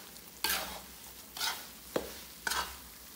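Ground flaxseed and white sesame being stirred into ghee in a pan, a soft low sizzle broken by four distinct scraping spoon strokes spaced about a second apart.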